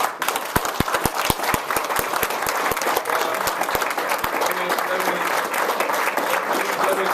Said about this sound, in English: give these guys another round of applause for coming here from Texas